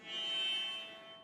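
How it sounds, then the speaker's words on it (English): A sustained, thin cello tone bowed close to the bridge, glassy and squeaky with strong high overtones and little body, swelling slightly then easing off. "you put your bow really close to the bridge and you get this kind of like high-pitched, squeaky sound"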